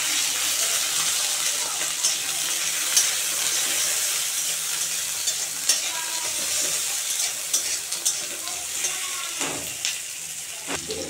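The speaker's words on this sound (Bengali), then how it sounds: "তো বন্ধুরা, পেঁয়াজগুলো লঙ্কাগুলো ভাজা ভাজা হয়ে গেছে।" Onions, tomato and torn green chilies sizzle steadily in mustard oil, a dense continuous frying hiss with occasional spoon scrapes and clinks against the pan, close and fairly loud throughout.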